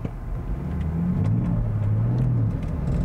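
A 2021 Land Rover Defender X 110 pulls away from a stop up a slight snowy incline, its engine rising in a steady, close revving whir with no one talking.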